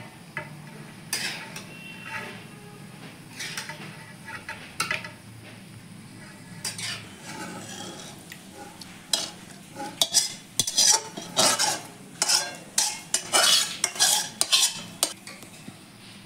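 Chicken pieces tipped into a homemade chicken biryani pot of rice, with quiet scraping and stirring that turns into louder, rapid clinks of a metal spoon against the pot, close up and with no talking.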